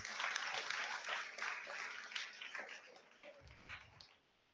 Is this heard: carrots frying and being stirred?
no